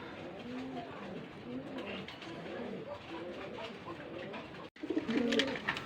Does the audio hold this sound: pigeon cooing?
yes